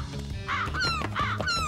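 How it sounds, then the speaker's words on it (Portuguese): Hungry cartoon birds caw in a cornfield, a busy chorus of loud harsh calls overlapping one another. "Agora os pássaros esfomeados podem comer o milho todo."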